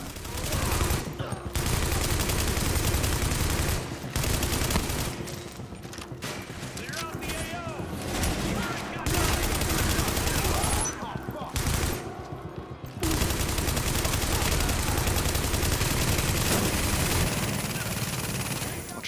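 Gunfire in The Division during a Carrier run comes as rapid automatic bursts and volleys separated by brief pauses, with a voice talking over the shooting.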